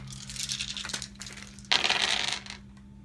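Dice rattle and clatter on a table during a Tower of Madness board game, with two bright bursts of rolling, the second louder and sharper, close by and without talk.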